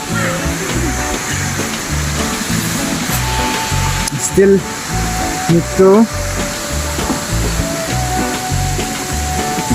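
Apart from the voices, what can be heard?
waterfall roaring nearby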